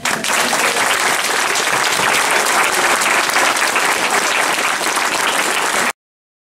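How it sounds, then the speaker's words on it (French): Loud, sustained applause from an audience honouring a newly designated Walloon deputy, steady dense clapping filling the whole stretch before cutting off abruptly. "Je vous invite à l'applaudir très très fort et lui faire un triomphe"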